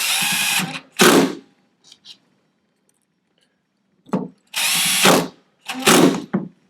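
A power drill drives screws into the motor mount of a DBXL RC truck, with short whirring bursts separated by pauses and faint clicks of small metal parts, close and loud.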